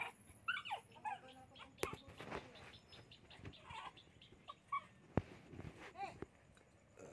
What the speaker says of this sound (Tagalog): Gutom na gutom ang aso ah.